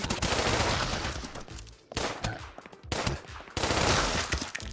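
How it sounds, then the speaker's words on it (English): Pistol burst fire in a roguelike video game: dense, loud rapid volleys in three back-to-back bursts separated by brief gaps. "we first wanted to give the pistol some kind of burst fire"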